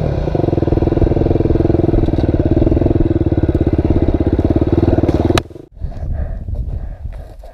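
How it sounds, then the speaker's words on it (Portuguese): A motorcycle descending a mountain road chugs steadily at low revs with a rhythmic clatter, then cuts off abruptly, leaving quieter rolling and rustling noise as it coasts downhill. "deixar a moto correr, ó. Vou descer, ó."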